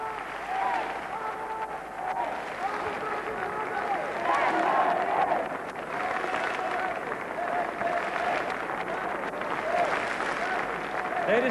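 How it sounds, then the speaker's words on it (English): Standing ovation at the 1987 Conservative Party Conference in Blackpool, a large hall crowd clapping continuously in a dense, sustained wash, with voices mixed into the roar. "Well, if it goes on like this, the ovation will last longer than her speech."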